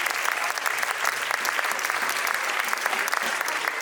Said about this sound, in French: Les grands danseurs, ce sont les étudiants du département Arts et Danse de l'Université de Lille et on peut les applaudir aussi.